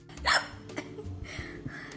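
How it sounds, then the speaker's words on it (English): A baby gives one sharp, close hiccup, followed by quiet breathing. "So it could be that they started hiccuping."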